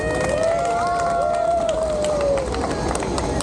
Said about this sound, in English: Can everybody clap for Harry?